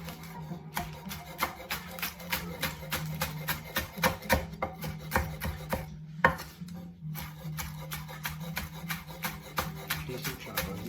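A knife chops strong onions in quick, rhythmic taps on a board, a steady run of close, fairly faint strikes with one brief pause midway.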